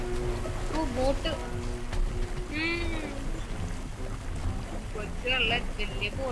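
A boat sails across the water in the Blox Fruits video game, a steady wash of engine and sea noise running throughout while a person talks over it.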